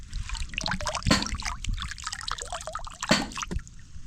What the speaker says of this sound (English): these are water from the borehole.